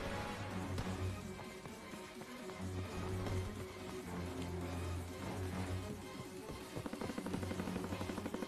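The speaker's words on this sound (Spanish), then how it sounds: "El avión de reconocimiento está en el aire." A reconnaissance aircraft drones overhead during an online team deathmatch on the London Docks map in Call of Duty WW2, a steady low hum beneath busy in-game battle noise and effects.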